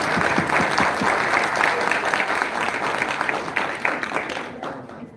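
A large audience at a university prize ceremony in Lahore breaks into loud, sustained applause to welcome the chief guest, the clapping dense and close before tapering off at the end.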